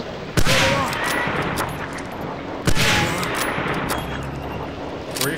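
Gunfire rattles in the World War II shooter Medal of Honor: Allied Assault: two loud, sharp bursts stand out over a continuous crackle of distant rifle and machine-gun fire.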